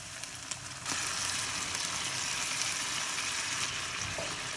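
Tomato sauce poured into a ragù in a pan sets off a sudden, steady, close sizzling hiss that holds evenly for several seconds with no talking.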